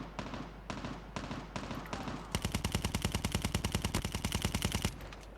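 Rapid automatic gunfire in the mobile game Call of Duty Mobile, in bursts, first short broken volleys then a long sustained stream of evenly spaced shots, loud and close.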